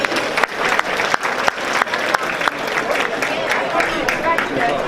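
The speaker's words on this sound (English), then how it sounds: "Please give Yasmin one more round of applause." Sustained audience applause fills a gala awards dinner hall, dense steady clapping from a large crowd with a few sharper claps standing out, continuous throughout.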